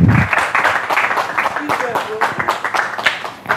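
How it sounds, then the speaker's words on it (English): An audience claps for a contestant in a reality show caretaker task, a short burst of applause that rises and thins out while people talk over it. "Round of applause for him,"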